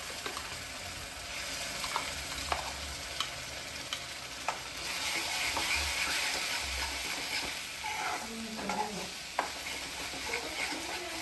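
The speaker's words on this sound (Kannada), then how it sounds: "ನೋಡ್ರಿ ಈಗ ಮಸಾಲ ಫ್ರೈ ಆಯಿತು" Ground masala paste fries in hot oil for Sunday chicken, a steady close sizzle broken by scraping stirs and occasional clinks of the spoon against the pan.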